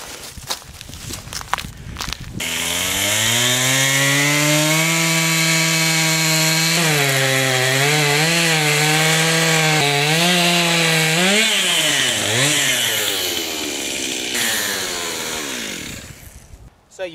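A chainsaw recuts the notch while felling a tree in a wide open area: after a couple of seconds of quiet handling the engine roars loud and close for about twelve seconds, its pitch dipping and rising as it bites, then drops away.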